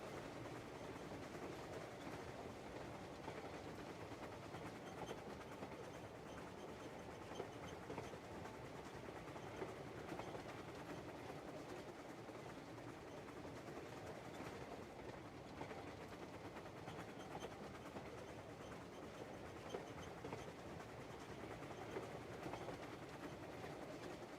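A train rolls along rails in the video game Crimson Desert with a steady, quiet rumble and faint rhythmic clatter that runs on without a break, heard alone with no voices.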